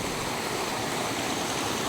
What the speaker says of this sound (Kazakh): Қайыңдың суы.